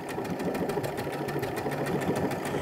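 A Baby Lock Brilliant sewing machine runs steadily through decorative stitches, its rapid regular needle chatter close and even for the whole stretch, with no voices.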